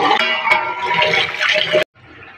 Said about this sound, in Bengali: মাংসটাকে ভালোভাবে ধুয়ে নেব।